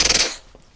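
A voice imitates machine-gun fire with a ricochet: a loud, rapid burst of rattling bursts in the first third of a second, then a fading whine-like tail, heard alone and close.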